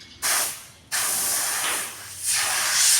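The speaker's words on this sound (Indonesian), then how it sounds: "Lalu kita bersihkan pakai kompresor." Compressed air from an air compressor blowing to clean a surface: loud, close bursts of hissing air that start abruptly, surge, briefly cut out and resume, ending in a stronger sustained blast.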